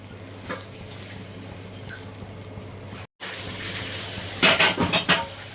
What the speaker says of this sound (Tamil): மறுபடியும் கொஞ்சம் எண்ணெய் ஊற்றிக்கலாம்